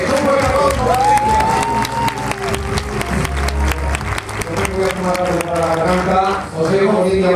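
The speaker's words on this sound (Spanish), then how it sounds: "¡Un buen aplauso para ella!" Crowd applause and cheering fill a Spanish television talent show stage, loud and sustained throughout, with a sung melodic line and band music rising underneath and voices shouting within the noise.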